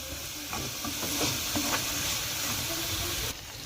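Onions frying in a pan for an okra and meat stew, making a steady hiss with scattered light stirring scrapes, close by and with no talking, before the sound drops off near the end.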